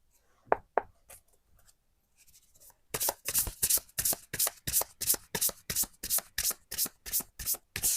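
Tarot cards being shuffled during a reading: after a few soft handling sounds and a pause, close, rhythmic riffling bursts repeat steadily for about five seconds, with no talking.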